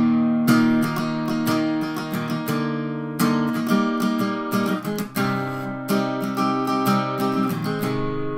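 Acoustic guitar with a capo strums a transposed version of a song, full bright chords in a steady driving rhythm, close and solo without any voice.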